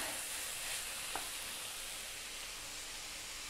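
Carrots and tomatoes sizzle in a pan while being stirred, making a soft, steady frying hiss with one faint scrape partway through.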